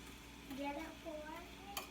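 Tinned mackerel and vegetables sautéing in a pan, a quiet steady sizzle with a few brief stirring scrapes and a short clink near the end.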